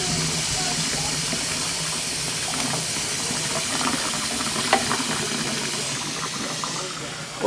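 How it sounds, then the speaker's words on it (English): Dishes being washed under running water at a home sink, a steady close hiss of the tap with faint clinks of crockery throughout. "I am doing dishes at the same time"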